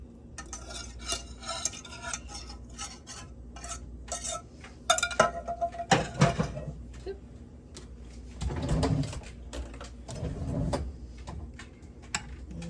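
Thickened cheese sauce is poured over a casserole and spread around with a utensil, giving soft wet scraping and a few sharper clinks of metal against the dish, close and uneven.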